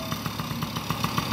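A 2012 Yamaha PW50 small off-road bike runs at idle nearby, its little two-stroke engine putting out a fast, even popping burble.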